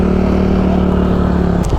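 Motorcycle engine idling steadily up close with a constant low hum while parking at a river resort, cutting off near the end.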